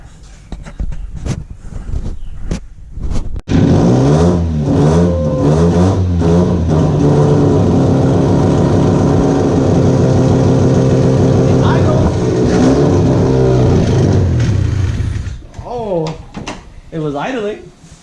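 A big-turbo Mazda RX-7 starts up after a few clunks, then holds a loud, steady idle with slight revving for about twelve seconds before shutting off, followed by more handling noises.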